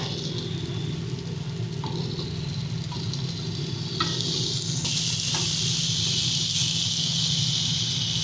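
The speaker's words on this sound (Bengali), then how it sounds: "এবারে দিয়ে দেবো আমরা এর মধ্যে ধুধুলটা" Ridge gourd pieces hit a pan of fried spice paste for a shrimp recipe, setting off a steady, loud sizzle that swells in brightness partway through, with a low hum and a few faint stirring knocks underneath.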